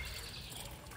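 Heavy rain falls on a wet day, with water trickling and dribbling steadily at close range. The hiss is faint and continuous, and no one speaks.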